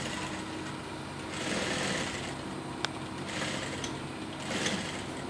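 A sewing machine stitches a straight line in steady bursts of fast mechanical whirring, close and moderately loud, with brief slowdowns between runs.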